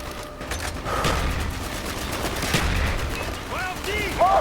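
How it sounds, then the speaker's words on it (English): Mortar fire in Call of Duty: Black Ops, a string of muffled booms and thuds amid battlefield gunfire, with voices shouting over the din. "Firing mortars!"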